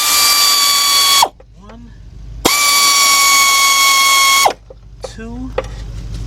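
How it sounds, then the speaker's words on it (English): A 3/8-drive ratchet with a 12 mm deep socket loosens bolts on a 2002-2005 Hyundai XG350 during timing belt and water pump work. It runs in two long, loud, steady buzzing bursts with short pauses between them, and a voice speaks briefly. "Okay, I got 12 millimeter deep, 3/8 drive, my ratchet."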